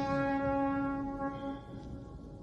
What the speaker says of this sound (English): The foghorns, yeah, the foghorns of the Mersey